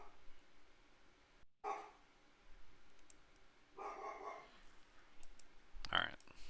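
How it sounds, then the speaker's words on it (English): A dog barks in a few short bursts in the background of an indoor room, faint and spread out between soft mouse and keyboard clicking. "Sorry about the dog."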